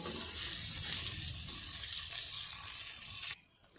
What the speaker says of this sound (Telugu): పన్నీర్ ముక్కల్ని ఇలా ద్వారగా వేయించుకొని పక్కన పెట్టేసుకోవాలి